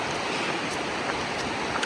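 A river flows beside a benched hiking track in New Zealand, a steady, close, full rush of water with no pauses, heard on its own without talk.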